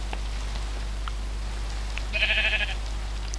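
A sheep bleats once in the Minecraft video game, a short wavering call of several pulses heard alone over a steady low background hum.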